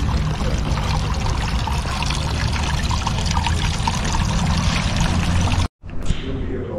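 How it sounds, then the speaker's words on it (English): A garden water feature runs with a steady, close pouring trickle of water for several seconds before it abruptly cuts off, followed by a brief quieter tail. "So this is the water feature that we will be taking along with us."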